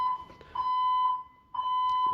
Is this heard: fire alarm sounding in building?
yes